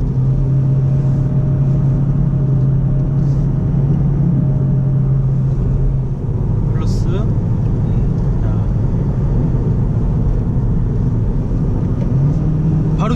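Chevrolet Cruze with 18-inch Michelin Primacy tires accelerating after a paddle downshift, heard from inside as a steady loud engine drone and road rumble that shifts pitch midway, with people talking over it.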